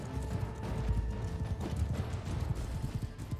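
Horse hooves galloping in the video game Mount and Blade 2 during mounted combat, a rapid continuous clip-clop rhythm mixed with battle noise, loud and steady throughout.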